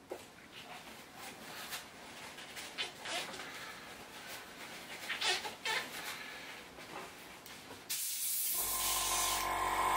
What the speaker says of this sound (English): then we can clean our airbrush out